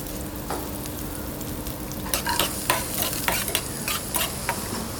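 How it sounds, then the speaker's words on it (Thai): Soup spice paste stir-fried with garlic and shallots in a pan: a continuous close sizzle broken by sharp scraping and stirring strokes that grow busier halfway through. "มาผัดเครื่องซุปกับกระเทียมหอมแดงนะคะ"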